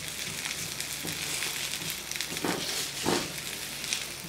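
Birria tacos fry on a cast iron griddle, a steady close sizzle and crackle with occasional louder bursts as the food is turned, no voices over it.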